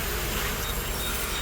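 Honeybees on a hive frame holding larvae, a dense, steady buzzing hum that is close and continuous, with no talk over it.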